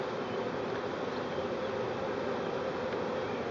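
A swarm of honeybees moving into a hive makes a dense, steady buzzing hum, close and continuous, with no voices over it.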